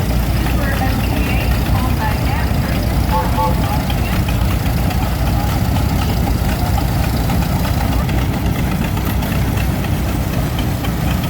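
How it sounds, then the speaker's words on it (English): Unstyled John Deere B tractor runs at a vintage tractor show, its steady engine chugging continuously and loudly throughout, with dense background noise and voices mixed in. "Here comes another John Deere B in the unstyled version."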